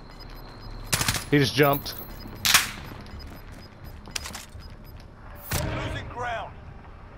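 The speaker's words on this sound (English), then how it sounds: "Somebody's behind us shooting from that direction." Bursts of gunfire in a battle-royale video game, sharp loud cracks and short volleys scattered across the moment, with someone talking over the shots.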